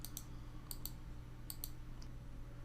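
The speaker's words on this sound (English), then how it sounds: "I'm just going to click on this" A computer mouse gives a few sharp, quiet clicks in pairs against a steady low background hum.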